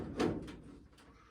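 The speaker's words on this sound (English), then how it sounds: "Now let's see if these door hinges still move." The door of a 1953 Austin Healey swings on its hinges, giving a short, soft knock and scrape followed by a fainter second movement, brief and close, with no talking.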